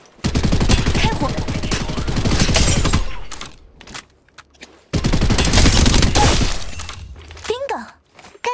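Rapid automatic gunfire in an Apex Legends firefight, loud bursts of dense rattling shots in two long volleys with a short pause between, alongside crashing impacts and a brief whooshing ability effect near the end.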